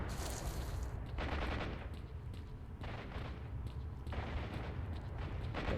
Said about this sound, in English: I don't know if this gunfire means there's actually a fight, or if it's just noise, kind of ambient